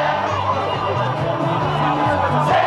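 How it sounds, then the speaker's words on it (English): Thousands of people singing and chanting in the street in front of the presidential palace in Haiti, a loud, dense crowd roar with sustained sung tones and babble throughout. "This crowd of thousands was singing, chanting, and dancing in the street right in front of the presidential palace"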